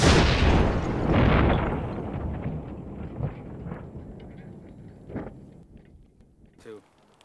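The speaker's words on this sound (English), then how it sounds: "This explosion was so powerful that part of the cardboard carton pierced the car's steel door." A pipe bomb inside a car goes off in a loud, deep blast that rolls into a long, decaying rumble, followed by scattered thuds and debris rattling as it fades.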